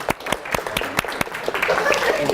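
An audience at a college cabaret improv café applauds to welcome a performing group: distinct sharp claps at first, building into denser scattered clapping with a few murmuring voices.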